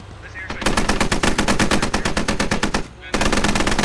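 Rapid automatic machine gun fire in a military shooter game rattles out in a long, loud, evenly spaced burst, breaks briefly, then resumes close by.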